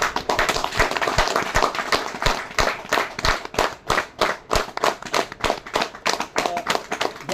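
An audience clapping in a hall at a motivational talk, with many pairs of hands at first and then settling into a loud, fairly even rhythmic beat of claps close by, with no one speaking over it.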